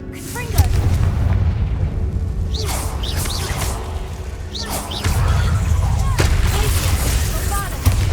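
Confringo explosive spell blasts from the Hogwarts Legacy video game, heavy booming bursts that keep landing amid a dense, continuous roar of battle noise.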